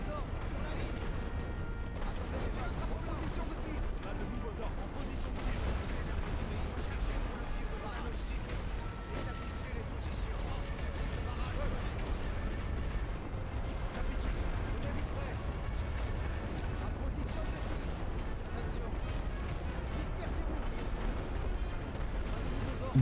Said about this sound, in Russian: Артиллерия пробивает их наглухо.